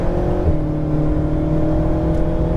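An Alpine car accelerating, its engine droning loud and close with a steady, slightly climbing tone from inside the cabin; no talking.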